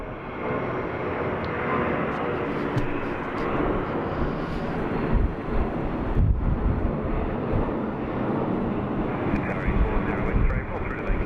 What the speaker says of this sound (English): Clearing someone to land before this plane took off.